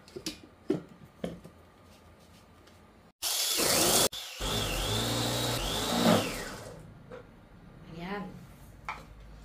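An electric grinder pulverizes peanuts in loud whirring bursts, a short blast followed by a longer roaring run that winds down, with scattered knocks and handling clatter before it starts.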